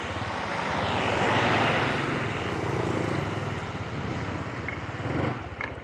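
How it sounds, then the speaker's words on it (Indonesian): A Honda Supra motorcycle engine revs under throttle nearby, a loud continuous roar that swells and eases, with a few quick blips toward the end. "Ya ini gas langsung ngisi ya"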